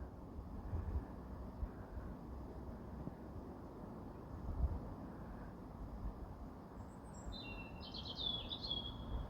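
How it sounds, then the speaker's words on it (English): A blackbird sings at night near 10 pm, a faint, distant burst of song late on, over a low rumbling outdoor background with wind noise. "Why is a blackbird singing?"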